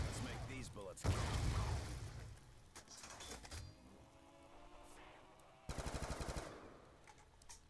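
Rapid bursts of automatic gunfire in a shooter video game, loud staccato volleys near the start and again toward the end, with quieter game ambience in between.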